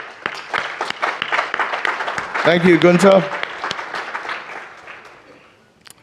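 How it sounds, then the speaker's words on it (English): Audience applause after a speaker at a high-level business address, a broadband patter of clapping running under talk, peaking midway as a voice speaks over it, then thinning out toward the end. "Let's give him a round of applause."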